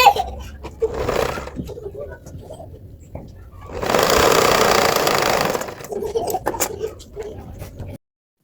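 A sewing machine stitches a round neckline in fabric, a dense whirring burst in the middle between quieter stretches of handling noise and shorter machine runs, close to the listener.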